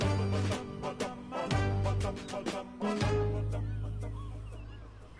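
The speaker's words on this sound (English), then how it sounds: "Bunch of birds." Game birds calling in Burly Men at Sea, a series of repeated clucking, squawking cries over a sustained musical drone, fairly loud with no talk.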